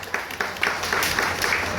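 Audience clapping at a ceremony honouring a cooperative society branch in Gujarat, a moderate burst of scattered hand claps building into a dense, steady round of applause.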